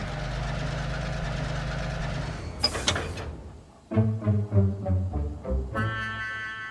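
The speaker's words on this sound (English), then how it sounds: "Suddenly, an engine came along." A cartoon steam engine from the Thomas and Friends series rumbles steadily, then gives a sharp burst before pulsing chuffs and a whistle-like tone near the end, close and fairly loud with no talk.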